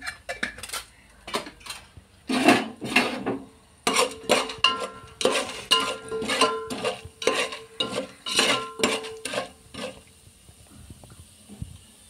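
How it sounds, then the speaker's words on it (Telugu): Chana dal frying in a pan alongside cumin seeds, stirred with a metal spoon that scrapes and clinks against the pan in quick repeated bursts for about ten seconds before settling into a quiet sizzle. "అవి ఫ్రై అయ్యే వరకు కలుపుకొని"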